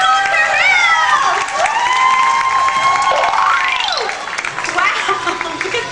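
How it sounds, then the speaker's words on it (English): Crowd cheering and shouting at a tiger show at Six Flags Great Adventure, loud and continuous with whoops and rising and falling shrill voices throughout. "the louder you cheer, the higher he's going to climb"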